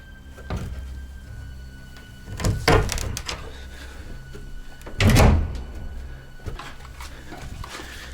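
A door is pulled shut inside a cramped underground space, giving two dull thuds a few seconds apart over a low, steady background rumble.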